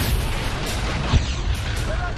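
A rumbling, noisy wash of distant blasts with one sharper thud midway, explosions from Russian fighter jet strikes on Irpin near Kyiv, Ukraine, heard over a steady roar.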